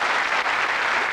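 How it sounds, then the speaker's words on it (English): Dense applause from a game show studio audience, a loud continuous burst of clapping lasting about a second. "Give them all a round of applause."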